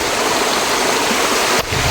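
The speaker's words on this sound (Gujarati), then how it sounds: "ઝરણો ડુંગરમાંથી પાણી પડે તે પણ ચોખ્ખું દેખાય છે" A hill stream falls from the mountain near Pavagadh hill station. It makes a loud, steady rushing splash close by that cuts out briefly just before the end.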